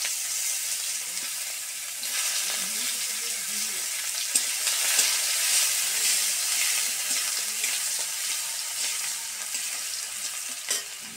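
Chopped onion frying in oil with cloves, cinnamon and cardamom, a dense steady sizzle heard close up with a few faint clicks of stirring, no talk.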